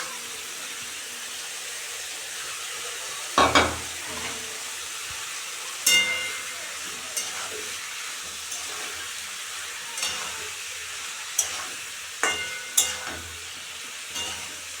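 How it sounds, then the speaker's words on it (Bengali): Spice paste with home-ground coriander and cumin frying in oil for a boal fish curry: a steady close sizzle and hiss, broken by occasional scrapes and clinks of a spoon stirring in the pan, with no voices. "মশলা থেকে অলরেডি তেল বেরিয়ে গেছে কষানো হয়ে গেছে"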